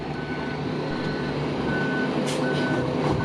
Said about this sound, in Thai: เรามาชมกันนะฮะลีลาการถอยเทนะครับ